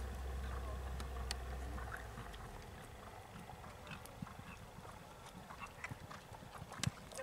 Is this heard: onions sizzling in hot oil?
no